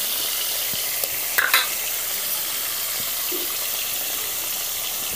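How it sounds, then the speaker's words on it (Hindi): Naini fish frying in hot oil in a home kitchen, giving a steady close sizzling hiss throughout, broken by a couple of brief clatters as the pieces go in. "तेल गर्म हो गया है, अब इसमें मछली डाल देते हैं।"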